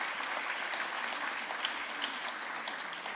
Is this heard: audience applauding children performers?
yes